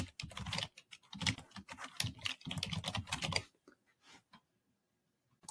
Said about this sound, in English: enter in their email addresses here.